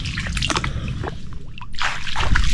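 Water pours and drips through a hole, splashing and trickling in uneven bursts with a churning low rumble underneath, loud and close.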